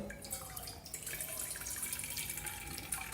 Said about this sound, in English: A very convenient water dispenser.